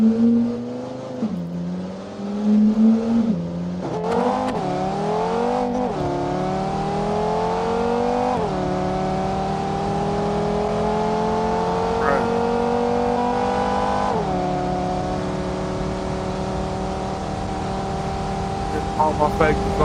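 Engine of a custom-built car in the driving game BeamNG revving up through several gear shifts, rising whine with sharp drops between gears, then a long sustained high-speed drone, with a voice talking over it.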